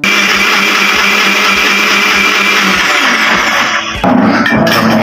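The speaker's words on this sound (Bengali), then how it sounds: "আবার পানি দিয়ে হালকা একটু ব্লেন্ডার করে নিই।" A loud, constant roar comes from an electric blender blending raw green mango juice with added water; it runs without a break, with a brief dip and surge near the end.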